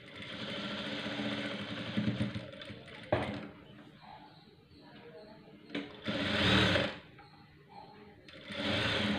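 A sewing machine stitches a lined blouse in irregular bursts of rapid mechanical whirring, separated by quieter pauses filled with a low background hum.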